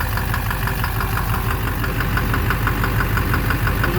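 Duramax LMM diesel engine idling with a steady, rapid knock from the bottom end, heard up close near the oil pan; continuous loud mechanical rattle and engine drone throughout, no talking.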